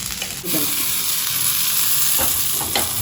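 Ingredients sautéing in hot oil with asafoetida, a continuous bright sizzle broken by a few scraping stirs of a spoon in the pan, close and without speech.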